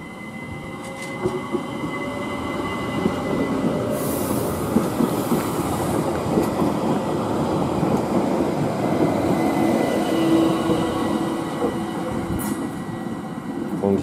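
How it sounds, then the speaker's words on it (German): An S-Bahn commuter train pulls out of Kufstein station bound for Telfs-Pfaffenhofen, its wheels rumbling and clattering steadily for the whole stretch, loud and close, with a brief high squeal partway through. "Und hier fährt jetzt die S-Bahn ab nach Talfs-Pfaffenhofen."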